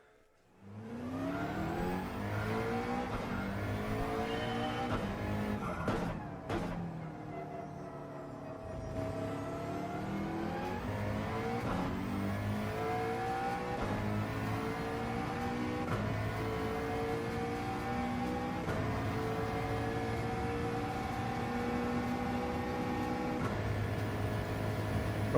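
Race car engine on a qualifying lap at Deep Forest in a racing video game, a steady loud whine climbing through the gears with brief dips at shifts and braking, sustained for the whole lap segment with no talk.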